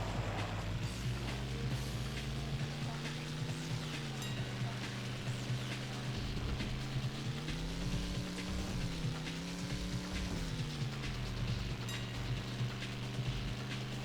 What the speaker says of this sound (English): it's just a generic V8 engine sound, I guess they used